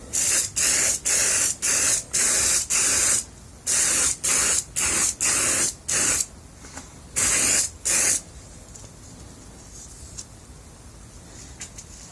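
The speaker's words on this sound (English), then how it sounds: "And I'm going to spray this one as well." An aerosol can sprays onto wax paper in a quick series of short hissing bursts, about a dozen in rhythm, then stops, leaving quiet room tone.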